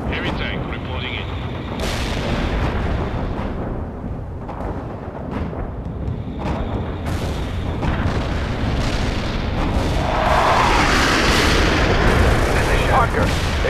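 Heavy airstrike explosions pound the battlefield in World in Conflict, rolling booms and artillery-like blasts building into a dense, roaring barrage that swells louder toward the end, with radio chatter mixed in.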